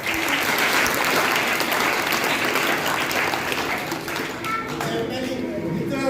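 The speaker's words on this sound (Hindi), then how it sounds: "टीम गांधी जी के लिए आप जोरदार तालियां इसलिए बजाएं" Enthusiastic applause from an audience at a village quiz competition held for Gandhi Jayanti, cheering the leading team; dense, steady clapping that fills the room for several seconds before thinning slightly.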